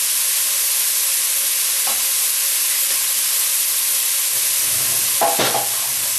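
Crayfish bisque simmering in a pot, giving a steady broadband sizzle and hiss throughout, with a few brief clinks and stirring knocks near the end.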